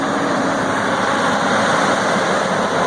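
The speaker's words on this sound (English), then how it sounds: "Idling nice and smooth." A 2004 Ford F-150 pickup's 5.4-litre V8 idles steadily up close, a continuous low rumble with an even, smooth texture and no voices.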